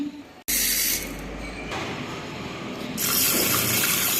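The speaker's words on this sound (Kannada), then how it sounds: "ಇವನ್ನ ನಾನು ನೀರು ಹಾಕಿ ವಾಶ್ ಮಾಡಿಬಿಟ್ಟು ತರ್ತೇನೆ" Water gushes from a tap into a vessel of mung beans being washed in a pressure cooker, a loud continuous rushing splash that starts abruptly and swells brighter toward the end.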